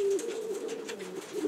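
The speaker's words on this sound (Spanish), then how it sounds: "La madre de la paloma que estaba robando." Pigeon at a breeding loft cooing in a steady low murmur close by, with a faint continuous rhythm and no talk over it.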